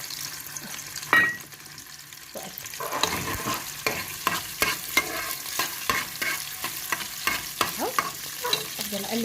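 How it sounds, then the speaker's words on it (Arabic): Onions stirred and sautéed in melted ghee for a vegetable tagine: a soft sizzle runs underneath while a spoon scrapes the pan in quick, repeated strokes, close and fairly quiet. "افضل اقلب فيها بقى لحد ايه ما تتشوح شويه"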